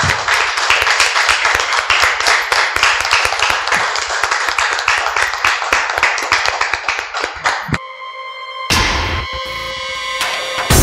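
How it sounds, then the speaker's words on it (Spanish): A crowd claps steadily and loudly for several seconds, then the applause cuts off abruptly and music with a bright tone starts. "Un aplauso para Claudio Márquez, Norberto Martínez"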